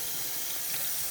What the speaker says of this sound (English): Let's get our hands good and washed and dried here.